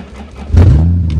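A Toyota Cressida's engine catches on a cold start and revs up sharply into a loud, rising roar that holds steady.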